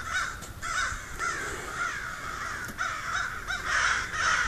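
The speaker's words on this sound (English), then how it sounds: "Look at these crows" Several crows caw from a tree, harsh repeated calls overlapping in quick succession, loud and close, with no talk.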